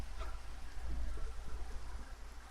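Steady rain from the Minecraft video game patters as a soft, continuous hiss of drops, moderately quiet and alone with no talking.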